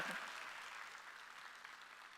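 A church congregation applauds during a Sunday service, with steady, moderately distant clapping running throughout.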